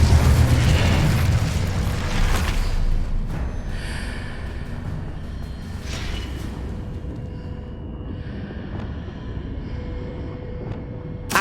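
An Incendio fire spell cast in the Hogwarts Legacy video game: a loud, whooshing burst of flame right at the start, fading into a long rumbling tail with fainter crackles and low ambience.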